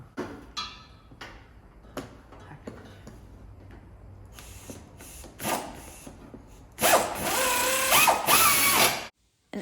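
A ratchet clicks as bolts are tightened on a new muffler on a Tracker, with scattered metallic knocks and short bursts, then a louder stretch of fast ratcheting near the end.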